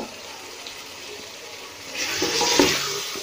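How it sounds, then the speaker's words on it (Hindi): Potatoes frying with spices and green chillies in a pan for a cauliflower and potato curry, a soft steady sizzle that swells louder midway with stirring scrapes. "2-3 मिनट हम आलू को भूनेंगे मसाले के साथ।"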